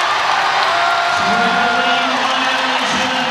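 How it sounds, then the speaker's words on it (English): A packed arena crowd roars and cheers steadily throughout a women's college basketball game between Virginia Tech and NC State, a dense loud wash of voices with a commentator talking over it. "here comes the capacity crowd now in full throat"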